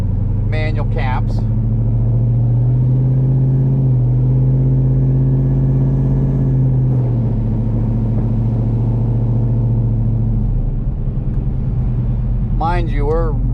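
A cammed LQ4 Silverado exhaust with cutouts open burbles at light throttle around 2100–2200 RPM, a steady loud rumble throughout, with someone talking over it at the start and end.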